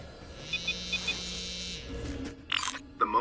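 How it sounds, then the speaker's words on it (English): A Wii Remote gives a run of short, bright electronic beeps, with a low buzzing rumble underneath, during a Metroid Other M transmission. Louder chirps follow near the end, fairly close and with no talking. "That noise was from the Wiimote. It vibrates and beeps whenever you get a transmission like this."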